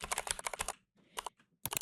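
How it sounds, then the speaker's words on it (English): Close, clacky keyboard typing in quick bursts of keystrokes, with short pauses between flurries and no voices. "sorry if my keyboard's really loud"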